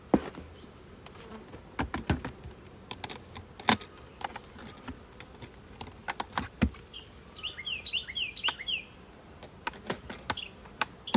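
Honeybees buzz around an open hive during an inspection, a low insect hum under frequent sharp clicks and knocks of handling nearby.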